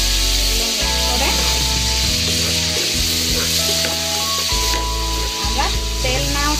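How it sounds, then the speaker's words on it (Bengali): Ground spices, turmeric, chili, coriander and cumin, sizzle loudly in hot oil for a pigeon roast, with stirring scrapes and shifting bursts of frying in a close, continuous crackle. "আমরা তেল না ওঠা পর্যন্ত মশলাগুলোকে কষিয়ে নেব।"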